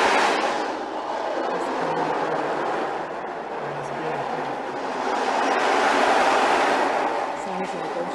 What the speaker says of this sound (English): Sounds like ocean waves.